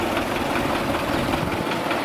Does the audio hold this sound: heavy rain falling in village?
no